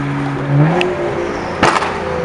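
A BMW M235i with freshly replaced spark plugs and coil packs revs up close by, its engine note rising and settling in a steady, continuous drone with a brief sharp burst partway through.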